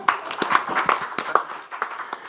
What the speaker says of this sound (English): 35 years of practice deserves a round of applause